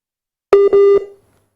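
A telephone busy tone sounds after a call drops during a live political talk show phone-in: a loud, steady electronic beep in two or three quick pulses lasting about half a second, then silence.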